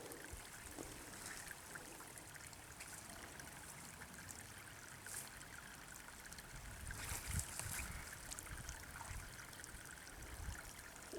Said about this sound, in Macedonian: Еве го изворот Бегови вирови.